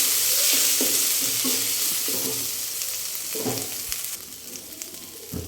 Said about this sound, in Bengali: মশলাটাকে একটু ভাজা ভাজা করে নিব।